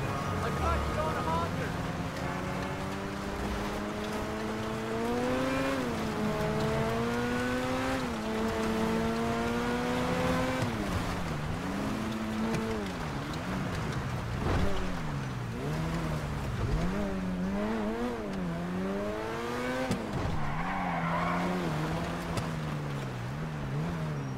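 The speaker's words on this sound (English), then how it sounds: "The exhaust sounds so good." A Benefactor Feltzer sports car engine in GTA 5 Online drones and revs continuously, pitch rising and falling through gear changes, loud and steady with occasional faint talk underneath.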